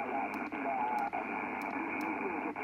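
Steady hiss and buzzing static of shortwave radio interference with the QRM Eliminator switched off, continuous and fairly loud, with brief dropouts and faint tonal whines running through it.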